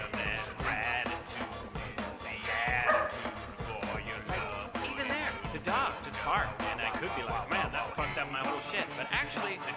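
A small fluffy dog barks and yips in quick repeated bursts, close and loud, mixed with a person talking over it.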